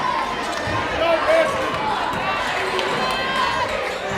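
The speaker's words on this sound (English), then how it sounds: "This crowd has gotten louder since we've gone on the air" Crowd noise fills a packed arena at Caesars Palace during a high school quarterfinal basketball game, Indians on offense, with a steady loud roar, sneakers and ball bounces faintly mixed in, and voices talking through it.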